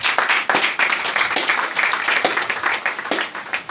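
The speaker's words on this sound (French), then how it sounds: "On applaudit." Clapping from a church congregation, a dense run of hand claps with sharp individual slaps standing out, loud and close throughout.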